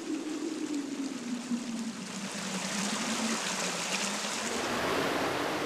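Flowing water of the Sakarya River in the Ankara region, a steady broad rushing wash that grows slightly fuller toward the end, continuous and without voices.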